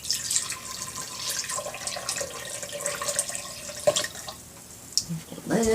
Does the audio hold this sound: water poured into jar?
yes